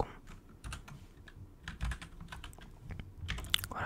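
Quick irregular clicking of a computer keyboard being typed on close by, soft and steady over a faint background, with no talking, during a whispered Minecraft play session.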